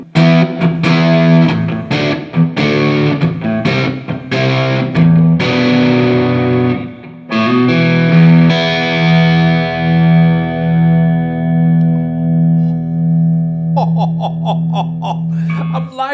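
A handmade Fulvia electric guitar by Karl Longbottom played through the neck pickup at full volume, rich distorted chords strummed in bursts, then a long ringing sustained note followed by a few quick picked notes, loud and alone.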